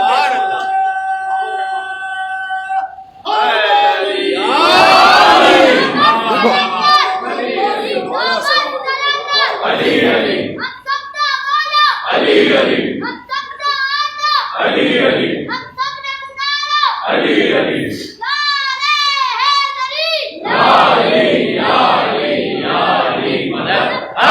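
A congregation at a majlis in Soldier Bazar, Karachi, chants religious slogans in loud, forceful bursts, with a group of voices rising together several times in a rhythmic call-and-response pattern.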